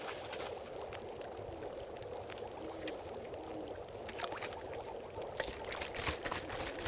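Water pouring in The Long Dark survival game: a steady, splashing stream of liquid, heard alone at moderate volume, running continuously with small bursts of sloshing toward the end.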